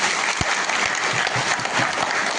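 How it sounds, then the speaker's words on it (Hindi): Delegates at a convention of a Jharkhand association break into loud, steady applause, a dense wash of many hands clapping together throughout with no voices standing out. "एक बार जोरदार ताली बजा दीजिए।"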